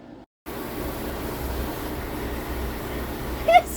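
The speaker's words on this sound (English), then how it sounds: "just start the dryer and see what happens in the back" Clothes dryer starting up after a repair and spinning: a brief quiet gap, then a steady broadband rumble and whir running on evenly, with a short louder squeak near the end.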